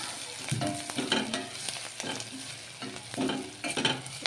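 Onions frying in a pan, a soft sizzle broken by repeated scraping stirs in uneven bursts, close and fairly quiet, with no one speaking.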